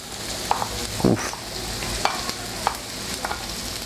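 Onion sautéing in a pan for a vegan moqueca makes a steady, close sizzle with intermittent spatula scrapes and knocks, one louder clatter among them, and no voices.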